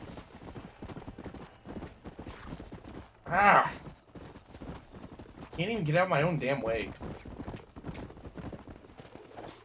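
Horse hooves clip-clop steadily in Red Dead Redemption, with a horse snorting or whinnying briefly. Someone talks and exclaims over the hoofbeats.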